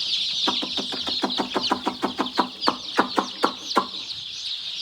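Gavran (native) chickens cluck in a quick repeated series under heat bulbs over a constant background chorus of chirping birds in a busy poultry farm shed.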